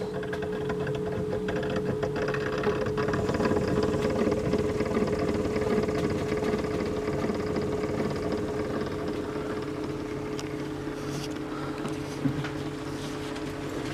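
A 1908 VTLA engine runs on test with a steady, fast mechanical clatter and a constant whirring hum, even and close for the whole stretch.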